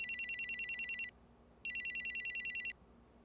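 A telephone rings twice in rapid trilling bursts, each about a second long, with a short pause between, fairly quiet and alone.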